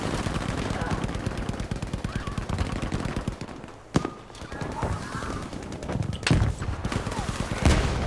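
Dense automatic gunfire and explosions in a Battlefield V multiplayer battle on the Mercury map, continuous loud rattling bursts with a few sharper blasts, while players shout and talk over the din.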